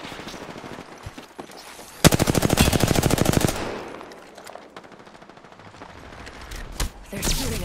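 Rapid automatic gunfire in Apex Legends, a loud sustained burst of closely spaced shots lasting about a second and a half, followed by scattered quieter shots and game noise.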